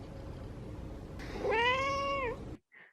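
A pet cat gives one clear, drawn-out meow of about a second, rising then falling, close to the microphone over a low steady background hum.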